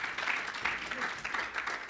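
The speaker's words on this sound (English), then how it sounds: "Can we give a round of applause as she joins the stage?" An audience applauds at an annual lecture, a faint, steady patter of many hands clapping at a distance, fairly quiet throughout.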